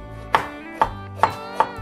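Bell pepper chopped on a cutting board with a knife: four sharp, close knocks spaced roughly evenly about half a second apart, each ringing briefly, with no voices.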